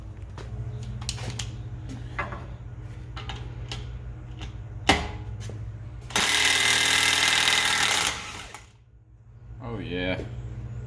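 A DeWalt power tool rattles hard at a BMW E60 front axle, bursts of loud hammering chatter over a steady low rumble, ending in a sustained roaring burst before a short pause and people talking.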